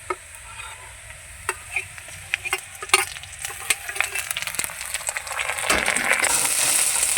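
Browned onions sizzle in a pan as garlic, green chili and ginger pastes go in, with scattered stirring clinks and scrapes. The frying hiss rises steadily toward the end.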